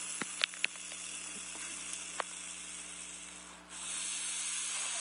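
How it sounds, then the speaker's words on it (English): An Eastern hognose snake gives a sustained, breathy hiss at close range, with a few faint clicks early on and the hiss swelling louder again toward the end. "Can you hear her hissing?"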